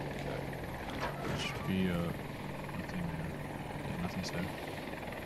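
An attack helicopter in Battlefield 2042 drones with a continuous rotor throb and engine buzz, steady and close, while a player talks over it amid a sandstorm.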